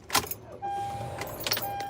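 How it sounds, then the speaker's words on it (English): A big green trash truck rumbles steadily just outside, a loud continuous engine drone that starts after a brief clatter, with a thin electronic tone sounding twice over it. "There's a big green trash truck next to me"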